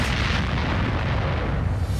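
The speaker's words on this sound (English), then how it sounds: "Well, not after that explosion there" An explosion in the Agent Elvis animated trailer gives a sustained loud booming roar with a dense rumbling tail, filling the whole stretch without any voices.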